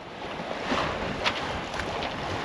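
Wind rushes over a sailboat at sea, a steady broadband blustery hiss with soft gusts and faint water noise, no voices present.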